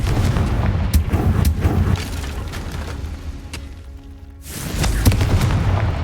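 Hogwarts Legacy Confringo explosive spell: a loud booming blast with crackling bursts and deep rumble that fades to a quieter lull. A second heavy explosion erupts near the end.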